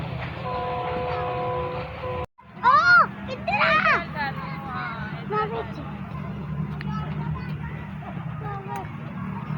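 Pakistan Railway express trains pass through Samanabad station at good speed: a loud, steady rumble of wheels and cars runs throughout, with a horn blast near the start and hubbub of voices around.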